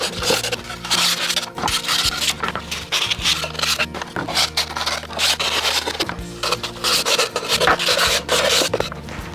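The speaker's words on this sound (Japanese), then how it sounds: "ちょっとだけヤスリをかけたいと思います" A hand file rasps across freshly cut wood pieces for a bicycle box. Close, uneven back-and-forth scraping strokes come in irregular bursts, with short pauses between passes.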